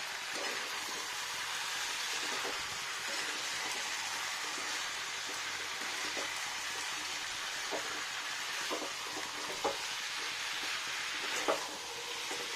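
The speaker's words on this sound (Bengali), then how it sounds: "অনেক কষাতে হবে ভালো করে" Masala sautés in a pan with a faint, steady sizzle, broken by occasional light clicks from stirring.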